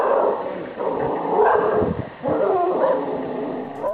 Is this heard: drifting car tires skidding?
no